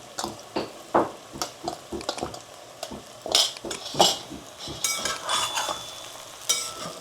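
Sago pearls are poured bit by bit into a pan and stirred with a spoon, giving irregular scraping and clinking knocks over a light sizzle, close and fairly loud.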